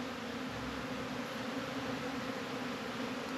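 Honey bees buzz quietly and steadily on a brood frame from an open hive, a faint continuous hum.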